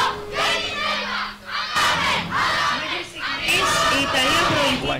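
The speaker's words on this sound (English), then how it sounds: "as we can hear, they are cheering up." A crowd at a youth basketball game in Patras, with Italy playing, cheers and shouts loudly in waves of overlapping voices, with a brief lull before the noise rises again.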